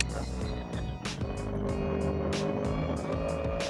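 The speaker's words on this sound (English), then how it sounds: "Dodgy gear shifting." In Forza Horizon, a car engine drones continuously while repeated brief breaks and pitch jumps mark rough gear shifts during driving, fairly loud and close.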